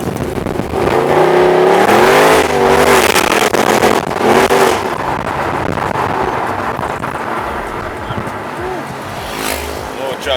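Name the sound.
Mercedes-AMG car accelerating and spinning wheels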